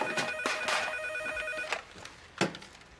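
A telephone ringing in a French-language home setting, several sharp electronic rings with steady tonal pulses, moderately loud and close, with no talk over it.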